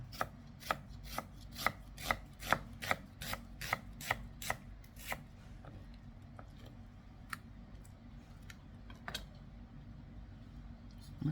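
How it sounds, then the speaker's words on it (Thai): A knife slices onion on a cutting board in quick, sharp, evenly spaced taps, loud at first and then thinning to sparse, fainter chops over a low background hum. "แล้วก็ซอยหอมใหญ่นะคะ"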